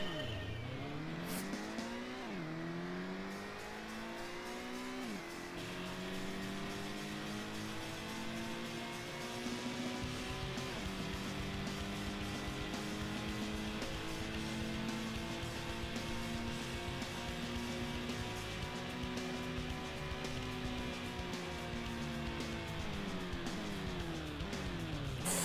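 Race car in Gran Turismo on a driving-licence test: an engine revs up through rising gear pitches, drops sharply on braking and downshifts, then climbs again, a continuous game engine drone with faint tyre squeal, heard clearly at low volume.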